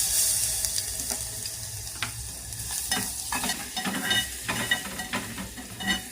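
Cumin and garlic fry in a pan as the base for a crab soup, giving a steady sizzle broken by repeated scraping stirs and clinks of a spoon against the metal.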